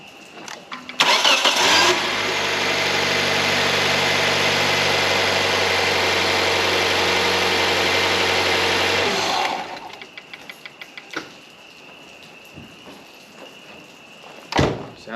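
A 2011 Hyundai Elantra engine cranks and catches with a loud start. It settles into a steady idle for about eight seconds, then cuts off, followed by quiet clicks and a couple of small knocks.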